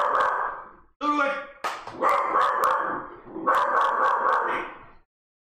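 A dog barks repeatedly at people outside, loud and close, in several bursts of sharp barks with a brief whimpering yip between them.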